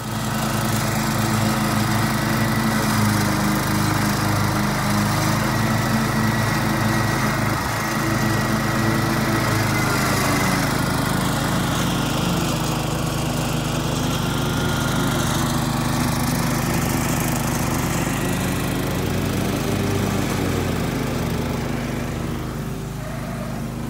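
A lawn mower cutting grass in a garden over a septic sewage outlet, its engine droning loud and steady close by the whole time with small shifts in pitch.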